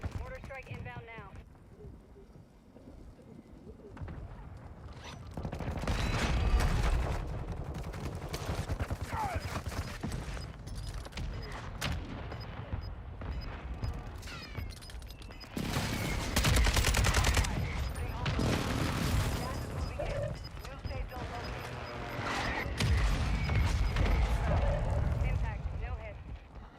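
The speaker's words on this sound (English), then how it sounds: "Mortar strike inbound now." Mortar strike in Warzone on Rebirth Island, with rolling barrages of booming blasts and gunfire in several loud waves, with voices talking underneath.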